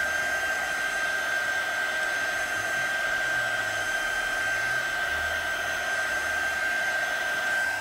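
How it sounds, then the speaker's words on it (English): Handheld heat tool blowing hot air over pattern paper on a craft mat, a steady, unbroken whir with a constant pitch and roar that runs the whole time. "you'll notice I'm heating right on my craft mat because the craft mat can be heated up to 500 degrees"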